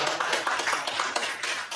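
Audience at a junior high school presentation applauding, a close, dense wash of many clapping hands that stays steady and loud throughout.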